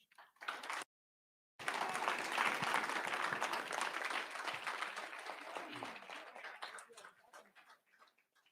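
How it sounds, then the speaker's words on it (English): An audience at a talk event breaks into sustained applause after a brief pause, dense clapping that swells and then gradually thins out and fades. "It was so powerful that you had to get a double clap for all of that."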